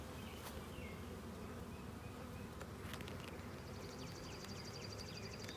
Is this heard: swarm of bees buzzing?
yes